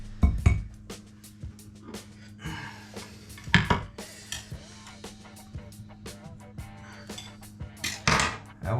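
A plate for Mexican hash handled in a kitchen, with repeated close ceramic clinks and knocks, a couple of louder clatters among lighter taps over a steady low hum.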